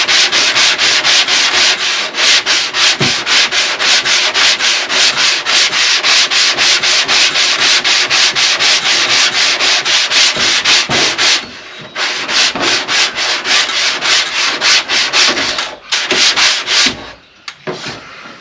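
Hand sanding of primer and Bondo filler on a rust-repaired 2002 Ford F350 truck body panel, a loud, close, rhythmic scratching of rapid back-and-forth strokes, briefly pausing and slowing near the end, with no talk.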